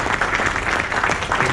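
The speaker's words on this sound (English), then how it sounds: "let's give Cory a round of applause" A conference audience in London breaks into steady, dense applause, a continuous wash of many hands clapping close by throughout, with no voices standing out.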